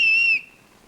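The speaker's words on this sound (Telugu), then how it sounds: "ఈల మింగేసావా?" A single bright, shrill whistle blast in a comedy scene, the joke being that someone has swallowed the whistle; the piercing tone holds briefly, then cuts off sharply into near silence.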